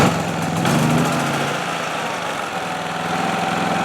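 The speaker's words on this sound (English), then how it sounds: "The generator is now running off the remote tank." A Westinghouse iGen4500 portable generator runs on a remote fuel tank, its engine droning steadily and loudly at close range with a constant vibrating hum and no voices.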